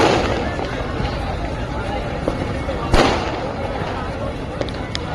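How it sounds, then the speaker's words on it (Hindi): Dense crackling and sharp pops of firecrackers, some set off on boats on the Ganges during Dev Diwali in Varanasi, burst continuously over a noisy outdoor crowd, with one louder bang standing out. "कुछ लोग तो नाव पर ही पटाखे जलाने शुरू कर देते हैं।"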